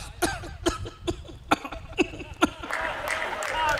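A poet imitates Kejriwal's phone dial tone with a run of sharp, evenly spaced cough-like bursts, about seven in a row, followed by a muffled, noisy stretch.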